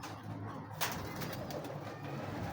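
Soft, low cooing of a crossbred high-flyer pigeon, faint and close, over a quiet hiss of background noise.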